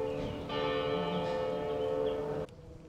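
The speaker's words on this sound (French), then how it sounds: "tu entends les cloches?" Church bells ring at the Fatima sanctuary, a sustained resonant metallic hum with layered overtones that swells, then cuts off abruptly, heard from a moderate distance.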